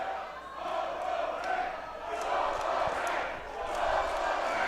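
A wrestling show crowd roars and cheers in a continuous, loud wash of voices that swells and eases in waves.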